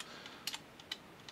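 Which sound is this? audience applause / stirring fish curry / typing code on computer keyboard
typing code on computer keyboard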